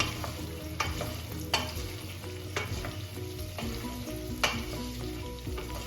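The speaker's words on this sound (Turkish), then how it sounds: "Şöyle bir kavuruyorum havuçları." Carrots for Uzbek pilaf sizzle and fry loudly in hot oil, with repeated sharp scrapes and knocks of the stirring utensil against the pot over a steady crackle, close and without voices.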